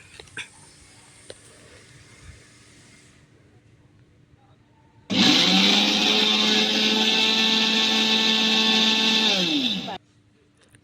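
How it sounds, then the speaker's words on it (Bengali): An electric grinder blends lightly roasted garam masala spices in one loud, steady whining burst of about five seconds that starts abruptly after a quiet stretch and cuts off just as sharply. "এখন এটাকে আমি ঠান্ডা করে অর্ধেক পরিমাণ একটা গ্রাইন্ডারে নিয়ে নিলাম। এখন এটাকে ব্লেন্ড করব।"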